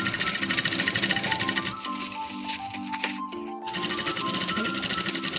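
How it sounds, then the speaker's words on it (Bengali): A sewing machine stitches a door curtain with a steady, fast mechanical rattle that runs loud and close, softens and slows briefly in the middle, then resumes at full speed. "এইভাবে আমি পুরোটা সেলাই করে নিচ্ছি।"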